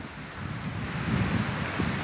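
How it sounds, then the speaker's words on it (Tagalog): Wind blows at a sunny beach, a soft, steady low buffeting rush against the microphone with slight gusts, fairly faint and with no talk. "Kasi mahangin siya. May kasamang hangin."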